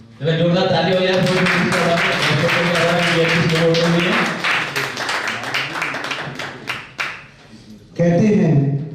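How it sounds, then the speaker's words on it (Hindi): Audience applause at an award ceremony in India: a voice speaks through a sound system first, then a burst of hand clapping from the crowd gradually thins out into a few scattered claps before the voice resumes. "जोरदार ताली हो जाए।"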